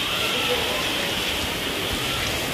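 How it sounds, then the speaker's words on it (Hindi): Steady hiss of rain falling in Karachi, a dense even wash of noise throughout with no pauses, fairly close and constant. "तो बारिश स्टार्ट हो गई है"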